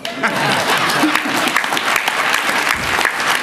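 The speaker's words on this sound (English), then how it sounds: "y'all supposed to clap" Loud, dense audience applause fills a hall during a speech in South Georgia, many hands clapping together with a murmur of crowd voices mixed in, sustained throughout.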